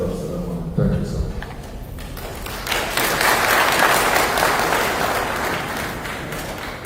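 Audience applause at a Nigerian military ceremony for a resource person and moderator, swelling into sustained, dense clapping from a large crowd after a brief spoken introduction.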